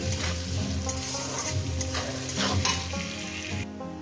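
Salted prawns fry on a medium gas flame for a yogurt prawn dish, with a loud, steady sizzle and periodic stirring scrapes of a spatula against the pan.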